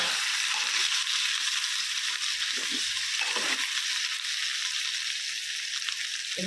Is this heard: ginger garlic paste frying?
yes